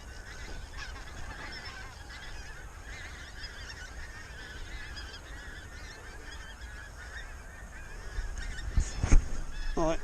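A flock of pink-footed geese honks continuously on a frosty morning as the birds drop in over decoys, a dense chorus that grows louder toward the end with some close calls, and no talking.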